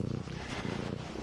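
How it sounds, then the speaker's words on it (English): A low, rhythmic rumbling cat purr close to the microphone, soft and continuous with a pulsing flutter. "you can hear her purring, I'm sure."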